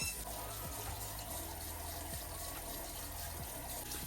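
A tap runs steadily into a sink, quiet and continuous, while splashes come at intervals from a face being washed under the stream.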